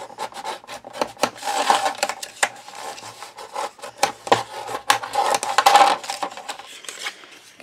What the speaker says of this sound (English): Okay, fold and burnish.